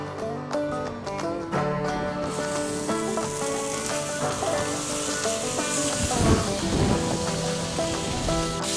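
Cut pieces of Tabasco sausage hitting a hot griddle, a dense, loud sizzle that builds and stays steady, with background music running throughout and no talking.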